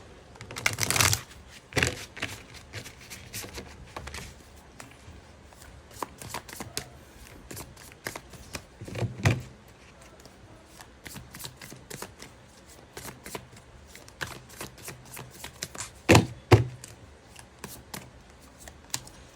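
A tarot card deck is shuffled by hand in several quick papery riffling bursts, close and fairly quiet, with softer card handling and brief pauses between them.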